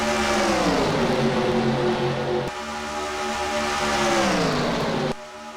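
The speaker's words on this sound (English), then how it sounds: "This car's going about 200 miles an hour right here." A stock race car at Daytona roars along at around 200 mph, a loud sustained engine whine with shifting pitch as cars pass in a pack, close and unbroken apart from brief cuts.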